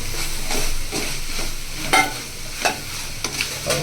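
Chicken gravy masala sautés in a pan, a loud, steady sizzle broken by repeated scraping strokes of stirring and a few sharper clinks, close up and without speech.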